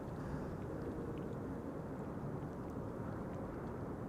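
A 19-year-old Cargolux cargo airplane, first flown in November 2006, arrives at Amsterdam Schiphol Airport on a frosty day, its steady, loud engine roar rumbling continuously throughout.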